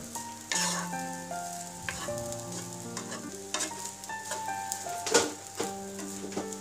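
Shrimp and vegetable fried rice sizzles in a pan while being stirred with black pepper, a continuous crackling fry broken by clinks and scrapes of the utensil, over soft background music with no talk.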